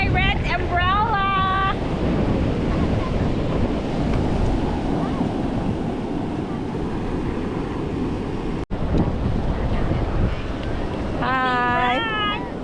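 Ocean surf rolls continuously at St. Simons Island beach in Georgia, heavy with wind buffeting the microphone, while brief speech can be heard at the start and end.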